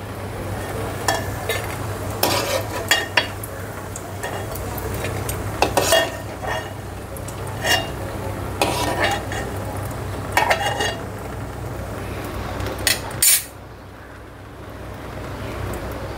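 Dried bombil fish are lifted out of a frying pan with a metal utensil, giving repeated scraping and clinking against the pan over a soft sizzle of oil, and the clatter stops near the end.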